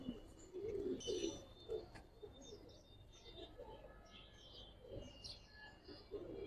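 Giribaz pigeons coo softly in low repeated throaty bursts, with chirps from other birds scattered over a quiet background and no clear talking.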